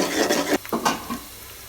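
Sliced onions frying in a pan for a tamarind small-fish curry, a soft sizzle broken up by a few scraping stirs of a spoon against the pan, then settling to a quieter hiss.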